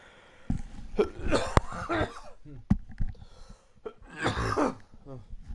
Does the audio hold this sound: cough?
yes